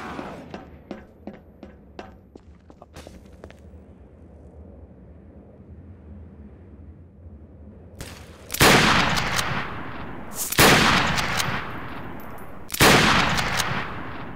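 Gunfire in the Garry's Mod game Trouble in Terrorist Town: a quick run of sharp, light shots at first, then after a quiet stretch three loud, heavy bursts of firing close up.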